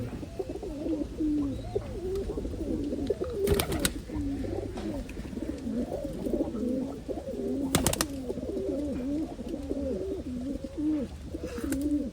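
Old-breed Khulna highflying pigeons coo repeatedly in low, rolling, overlapping calls, close and steady, with a few sharp flutters or clacks breaking in.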